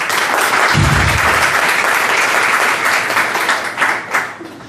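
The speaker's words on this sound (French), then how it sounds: "Vous pouvez applaudir pour ça." Loud, dense audience applause at a French network-marketing business presentation fills the room steadily, with a few louder claps standing out toward the end.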